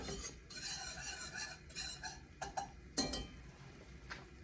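A roux being stirred in a pot for cheesy macaroni: soft scraping and light metallic clinks of a utensil against the pot, irregular and close, with brief louder strokes near the end.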